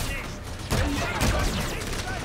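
Rapid bursts of gunfire crackle in Call of Duty: Infinite Warfare against robot enemies, over a dense, noisy background, with a voice speaking partway through.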